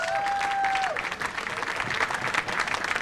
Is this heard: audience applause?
yes